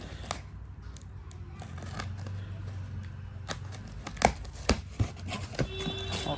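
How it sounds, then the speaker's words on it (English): Scissors cutting open a package for a cordless electric screwdriver drill set, with quiet snipping and crinkling of plastic and cardboard, then a few sharper clicks and snaps near the end, close and faint. "scissors to open this package"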